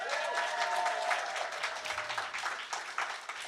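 A live science podcast audience at an evening public event claps in a short, dense burst of applause, moderately distant and fairly soft, with no voices over it.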